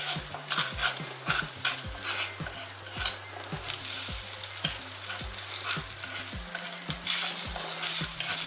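Raw onion rubbed across the surface of a hot iron pan while seasoning it, giving a steady loud sizzle with repeated scraping strokes and clinks, no voices.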